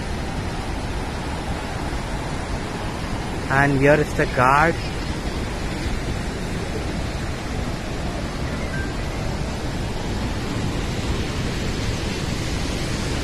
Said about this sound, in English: this is a complete view of the falls from the top